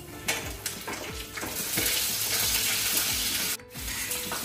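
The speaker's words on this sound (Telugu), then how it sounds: "ఇప్పుడు పచ్చిమిర్చి వేసారు" Green chillies hiss and crackle in hot oil for a pongal tempering, a steady close sizzle with faint scraping and stirring underneath.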